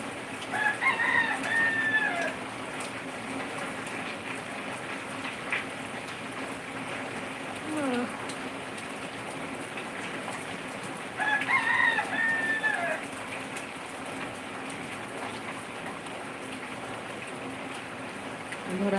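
Chickens cluck and a rooster crows in two short bursts over steady outdoor background noise.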